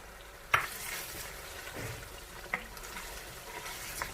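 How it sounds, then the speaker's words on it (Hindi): Mutton karahi with chopped green chilies and black pepper being fried in a wok. A faint, soft sizzle runs beneath a few sharp clinks of a spoon against the pan, with no speech. "कुछ देर तक हम इसे भूनेंगे ताकि ऑयल इसका जो है वो सेपरेट हो जाए"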